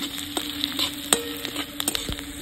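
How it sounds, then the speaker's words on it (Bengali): Onions fry in a pan, producing a continuous close sizzle with soft spoon scrapes and a few sharper clicks of utensil against metal, with nobody speaking. "প্রথমে পেঁয়াজটাকে ভাজা ভাজা করে নেব, লাল লাল হয়ে আসবে"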